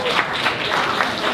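Short burst of applause from a small crowd at a tap house opening as a prize winner is called up, dense clapping that stays steady for about a second.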